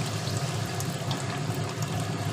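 Water poured into a pan where fish will simmer for a Bengali katla fish curry: a steady close splashing, gushing flow with no voices.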